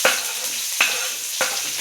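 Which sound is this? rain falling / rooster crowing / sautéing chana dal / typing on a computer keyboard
sautéing chana dal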